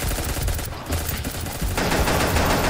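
Rapid gunfire from Pixel Gun 3D, a blocky first-person shooter, rattling in dense, continuous bursts that fill the whole stretch with steady, loud crackling and no voices on top.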